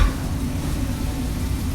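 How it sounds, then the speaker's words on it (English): Mushrooms cooking in herb garlic butter with a little plain butter, a dense low sizzle and soft stirring rumble, steady and close, with no voices. "So now we're going to cook our mushrooms. We're going to use our herb garlic butter."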